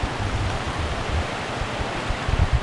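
A small forest stream near Munnar in Kerala, at a spot where elephants come down to drink, rushes steadily and close by as a dense, even wash of flowing water with no one speaking.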